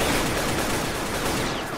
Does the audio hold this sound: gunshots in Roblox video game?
yes